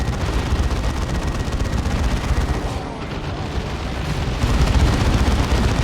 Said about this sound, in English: There's Assault Cannon barrage.